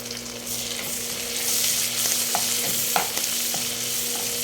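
Onions sizzle in hot oil in a pan with garlic for shrimp paste with pork, a loud, close, continuous frying hiss broken by a few light stirring scrapes.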